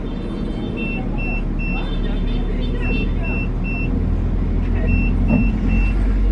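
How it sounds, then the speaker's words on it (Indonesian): Many motorbikes pass through a narrow lane in a loud, continuous engine drone, with a string of repeated high electronic beeps over the traffic. "Di belakang banyak banget motor yang lewat-lewat"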